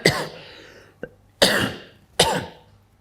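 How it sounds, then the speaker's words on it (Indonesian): Three harsh coughs, each a sharp burst trailing off, spaced about a second apart, close to the microphone with a small click between. "Maaf ya, batuk ini."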